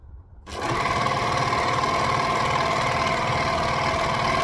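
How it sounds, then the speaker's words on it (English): An overlocker stitches a garment seam for a New Look 6378 sewing project, starting up after a quiet moment and then running at a steady, fast, whirring buzz, close and loud with no voices. "the beauty of an overlocker is if your ends are crooked, it will just straighten it up for you"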